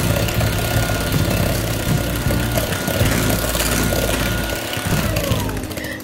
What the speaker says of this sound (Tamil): ஹை ஸ்பீடில் ஒரு 10 minutes போல அந்த ஸ்டிஃப்னஸ் வர வரைக்கும் நல்லா பீட் பண்ணிக்கலாம்